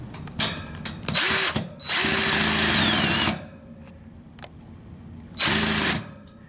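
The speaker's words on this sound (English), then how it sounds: "I'm going to put the metal grates back up with the 6 screws on each one" A power drill drives screws into metal ceiling grates on a home central air conditioning system, whirring loudly in three bursts of about one to one and a half seconds each, with short quiet gaps and a few small clicks between them.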